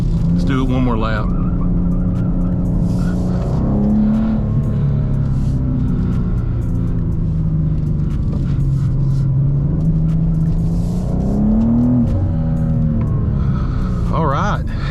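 A BMW M2 drifting on a race track, its engine roaring loud and close throughout, pitch climbing and falling as the throttle works, with tire noise and a voice talking over it.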